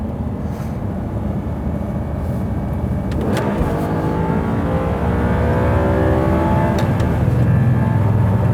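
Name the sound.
motorbike engine revving in a racing video game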